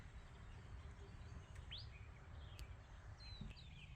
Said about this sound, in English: Oh, there's a thrush up there too.